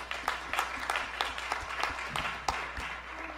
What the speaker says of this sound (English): Give him a round of applause for staying.